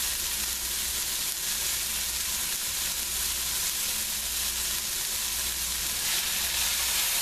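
Roux going into a pot of vegetables for shrimp and crawfish gumbo sets off a loud, constant sizzle and hiss that runs unbroken throughout.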